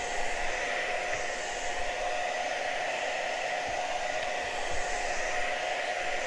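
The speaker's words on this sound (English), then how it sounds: "So you just use a hair dryer." A hair dryer drying paint blows steadily at close range, a constant whooshing hum with no pauses and no talking.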